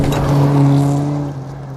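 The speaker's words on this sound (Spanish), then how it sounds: "Observó como un auto se adelantaba" A car speeds past in an audio drama scene, its engine a steady loud hum with strong low tones that rise and then fade as it moves off, with no voices over it.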